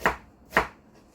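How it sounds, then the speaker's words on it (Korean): Two sharp knife chops spaced about half a second apart as carrots are minced thin on a cutting board, close and fairly quiet with no talk. "우선 당근부터 좀 다져보겠습니다"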